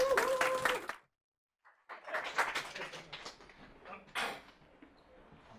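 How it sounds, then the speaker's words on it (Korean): Audience applause welcoming a young speaker at a Korean talk event on the conditions of love: a short patter of clapping, a brief silence, then a longer, softer round that trails off. "큰 박수로 앞으로 모실게요."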